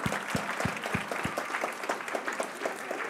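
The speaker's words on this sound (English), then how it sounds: "So give them a round of applause again." An audience claps after a lecture presentation at a Mecanoo kick-off lecture, a scattered burst of close, moderately loud clapping from a small crowd.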